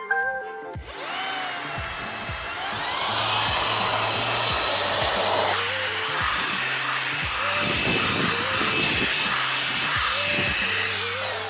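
A Jimmy HW10 washing vacuum cleaner runs while cleaning a leather car interior with a wide nozzle: the motor starts up and rises to a loud, steady whine, with gurgling suction and rhythmic bursts as the nozzle passes over the surface.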